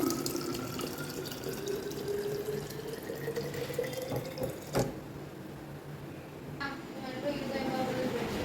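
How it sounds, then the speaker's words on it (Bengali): Tap water running steadily into a sink, a continuous rushing splash with a faint thud midway. A person talks over it. "এই যে জল জল চলে এলো"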